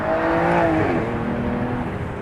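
A 2013 Aston Martin's engine revs, a smooth rising-then-easing tone heard loud and close for about two seconds, with no voices over it.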